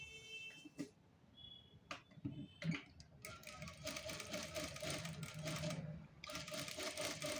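Sewing machine stitching the marked line of a round neckline, starting with a few short separate bursts and then running in steady continuous rattling stretches, close and fairly quiet, with no voices.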